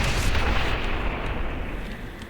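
Continuous booming cannon fire in the video game Quake 4 rumbles loudly, a dense barrage of heavy blasts blending into a steady roar with no voices.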